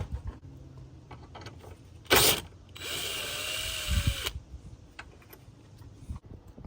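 A power tool spins out a 10mm bolt under the hood of an Infiniti G37S coupe: a loud short whir, then a longer sustained whine, set among light ticks and clinks of handling.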